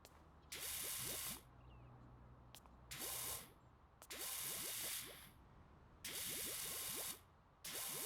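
A pressure washer fitted with a soap nozzle sprays multi-purpose cleaning liquid in several bursts of steady hissing spray, starting and stopping between quieter pauses, with a low mechanical rumble beneath.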